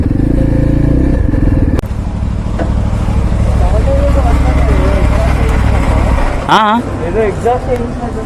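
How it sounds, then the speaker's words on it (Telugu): A Yezdi Adventure motorcycle engine rumbles loud and close with a raw, unmuffled exhaust, its dB killer removed, briefly revving with a rising whine near the end. "ఏది మఫ్లర్ తీసేసిన రాగానే అది డీబీ కిల్లర్ తీసేసిన. సౌండ్ అట్లా వస్తుంది."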